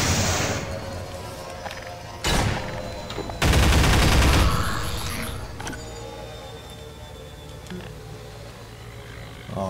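Pulse rifle alternative fire from the video game Half-Life 2, set in Nova Prospekt: a loud burst near two seconds, then a louder sustained blast of crackling, metallic fire with a ringing, fading tail over a steady mechanical background.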